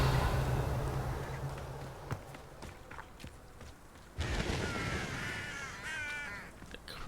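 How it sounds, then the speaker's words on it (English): Crows in the Hogwarts video game caw repeatedly, with scattered footsteps and game ambience, the calls growing louder and more frequent toward the end. "The crows."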